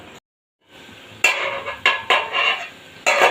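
A metal lid clatters onto a pot of bottle gourd curry cooked with fish head, a few sharp clanks and scrapes of metal on metal, close and fairly loud, with no talking.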